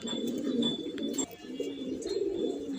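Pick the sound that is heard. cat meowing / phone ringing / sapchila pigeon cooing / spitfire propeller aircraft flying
sapchila pigeon cooing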